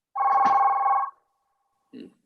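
A mobile phone rings during a municipal golf association meeting: one sustained electronic ring tone lasting about a second, then a short second burst after a pause, clear and close with no talk over it.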